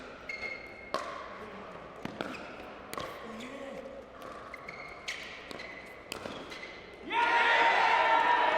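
Paddles crack sharply against a pickleball in a pro singles match, a run of quick volleys spaced about a second apart on an indoor championship court, ending in a burst of loud crowd cheering.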